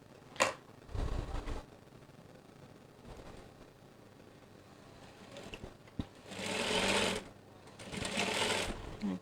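A sewing machine stitches the cuff of a curtain in short bursts, loud whirring runs separated by pauses, with light handling noises in between.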